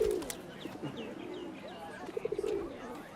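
A pigeon coos softly with a brief rolling call, set against a quiet ambient background in a drama scene, with no speech.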